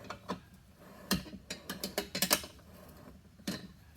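A wrench works a nut off a Coleman 321b stove, giving a series of close, sharp metallic clicks and ratcheting taps in an irregular rhythm.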